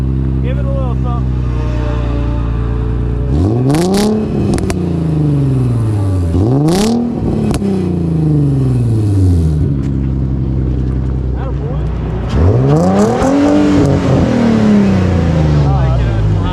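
A manual car engine cranks, catches and revs up and down several times at Newport Speedway, loud and close, with people talking over it.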